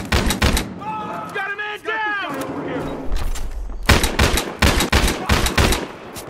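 Bald Eagle pistol gunfire in the shooter game Battlefield Hardline: bursts of sharp, close shots at the start, then a rapid run of loud cracks after a brief pause, with game voices and radio chatter heard between.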